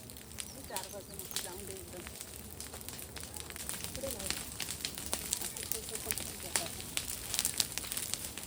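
Dry vegetation burning across a farm field, with steady crackling and sharp snapping pops spread over a constant rushing noise that swells slightly toward the end, and no talk.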